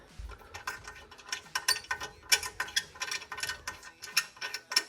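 A ratchet tool clicks steadily while tightening screws on a support frame for a wall-hung WC, a fast run of close, metallic pawl clicks in rhythmic bursts.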